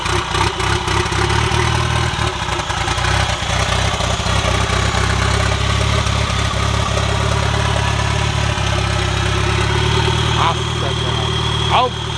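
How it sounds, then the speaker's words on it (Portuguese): A turbocharged VW Gol GL with its original engine internals idles steadily and loud close by, a continuous low rumble throughout, with people talking over it. "Ouve essa lenta no começo."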